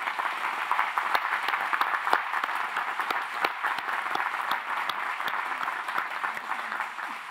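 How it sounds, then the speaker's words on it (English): Applause at a 2017 Indiana University Kokomo commencement ceremony, a steady wash of many hands clapping with distinct sharp claps standing out, sustained and fairly faint, with no talk over it. "So please join me, ladies and gentlemen, in another round of applause"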